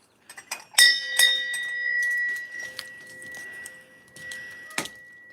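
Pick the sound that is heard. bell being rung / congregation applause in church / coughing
bell being rung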